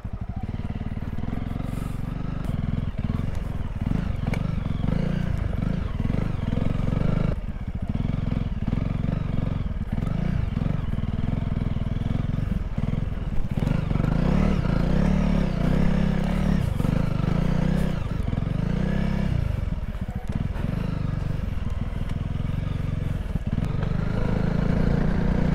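Honda CRF300 adventure motorcycle riding through the Italian Alps, its engine a steady low drone with rough, rumbling texture and occasional revs, close and continuous throughout.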